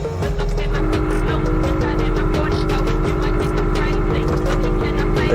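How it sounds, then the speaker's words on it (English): A silent-type air suspension pump raises a Hyundai Accent (Verna) fitted with a VIP body kit, giving a steady, close, continuous motor drone with a low hum and faint higher whine that holds evenly for about five seconds. "the pump as it works, the silent type pump, which in my opinion is not really that loud"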